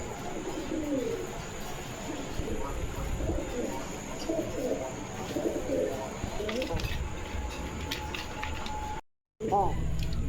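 A pair of white top rasgolla pigeons coo repeatedly up close, low rolling calls continuing steadily with a voice in the background and a brief dropout near the end.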